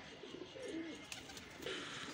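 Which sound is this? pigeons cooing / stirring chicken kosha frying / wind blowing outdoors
pigeons cooing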